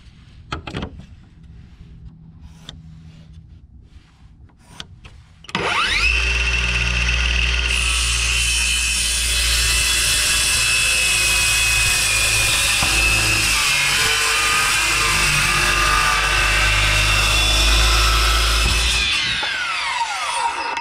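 A power saw cuts steadily through a wooden barn door for about fifteen seconds, loud and close, after a few quieter knocks and handling sounds.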